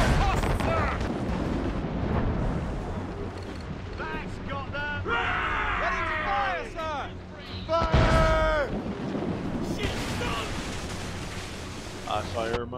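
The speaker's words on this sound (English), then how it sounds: "I fire my mortar" Shipboard mortar volleys in the video game Assassin's Creed Rogue, set at sea: booming blasts with rumbling explosions over wind and surf, several bursts spread across the scene, loud and close.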